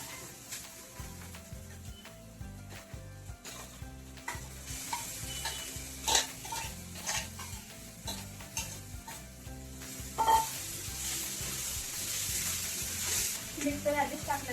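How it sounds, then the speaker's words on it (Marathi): Finely chopped eggplant frying in a pan for a spicy Vidarbha-style bharit, with a steady sizzle and repeated rhythmic scraping of a spoon stirring, fairly close and continuous. "आणि हे बारीक केलेले वांगे टाकून देऊ."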